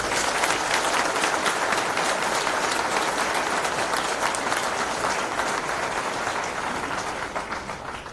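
A large crowd at a sheriff's office awards ceremony applauds steadily and loudly, a dense wash of clapping that holds for several seconds before starting to taper off at the end.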